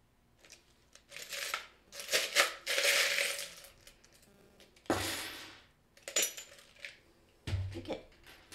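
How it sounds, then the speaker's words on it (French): Handfuls of small metal charms shuffled and jingled by hand, bursts of clinking and rattling in several separate flurries with quiet gaps between, close up. "Je vais aller chercher des charms. Je vais mettre sur pause, je vais les brasser."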